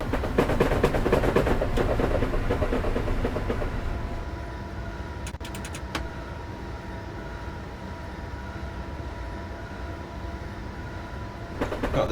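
A third-rail electric train in the Train Simulator 2020 game rolls along with rhythmic wheel clatter and a steady motor hum that eases off after a few seconds, a few sharp clicks breaking through.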